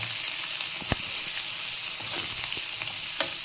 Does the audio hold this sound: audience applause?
no